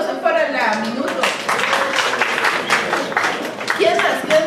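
A classroom audience at an accounting course gives a short round of scattered hand clapping, moderately loud and fairly close, with voices mixed in.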